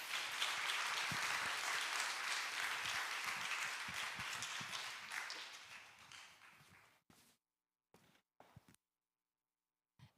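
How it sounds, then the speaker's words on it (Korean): A church congregation claps to welcome a speaker at a youth prayer revival service, dense loud applause that fades away over several seconds and ends in a few scattered claps separated by silence. "대표님 나오실 때 보내주신 하나님께 감사드리며 박수로"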